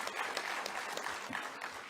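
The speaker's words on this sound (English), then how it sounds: "please give yourself a round of applause" Audience at a presidential social sector summit applauding, a fairly faint, steady patter of many hands clapping heard from a distance in a large hall, with no talk over it.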